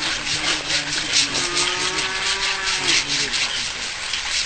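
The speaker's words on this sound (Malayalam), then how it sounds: "ആനക്കൊമ്പിന്റെ 9 കിലോയോളം തൂക്കം വരുന്ന ഭാഗം വാളുപയോഗിച്ച് മുറിച്ചു നീക്കുകയായിരുന്നു" A hand saw cuts the tip off an elephant's tusk under forest officials' supervision, with a steady, rhythmic rasp of back-and-forth strokes that keeps going close by, alongside a faint voice-over.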